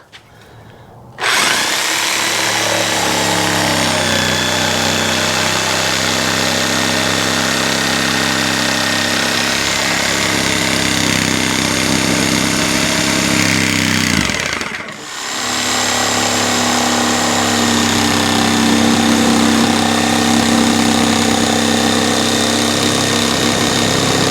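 A power saw runs steadily while cutting a wooden headboard, a loud, close, continuous motor whine that dips briefly midway then continues for the full length.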